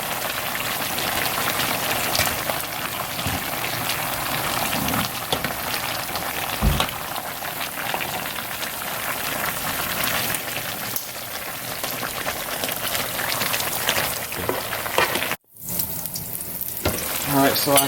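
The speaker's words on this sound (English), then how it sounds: "I'm just going to go ahead and stir it on in there." Cabbage and potatoes sizzle and fry steadily in a pan while being stirred, a continuous crackling hiss with faint scraping, close and fairly loud throughout, with a brief drop near the end.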